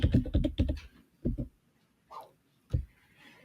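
Typing on a computer keyboard at an editing desk: a fast cluster of close key clicks, then shorter bursts after pauses, with a quiet room between them.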